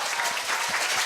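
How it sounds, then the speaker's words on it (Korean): A school hall audience of middle-school students and guests claps together at a Korea University youth speaking festival, a brief burst of dense, steady applause with no voices over it. "다들 큰 박수 주세요."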